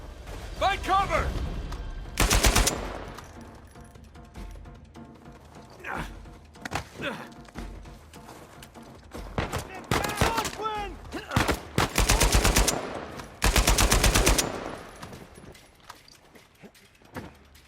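Gunfire and sniper shots ring out in the video game Uncharted 4, sharp loud bursts and short volleys scattered irregularly among quieter stretches, with voices talking between them.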